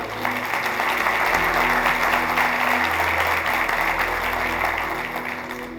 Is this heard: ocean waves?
no